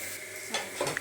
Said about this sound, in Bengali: এরপর কড়াইতে এই সব কটাকে একসাথে নাড়িয়ে নিলাম